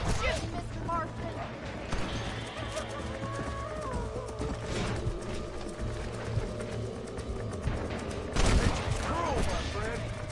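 Gunfire in the Red Dead Redemption video game, heard as a few sharp shots over a busy bed of hooves, game sounds and talking voices.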